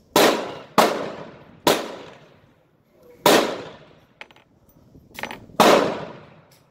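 Taurus 85 .38 Special revolver fired at a range: five loud, sharp reports at uneven intervals, each ringing briefly, with faint handling clicks between shots.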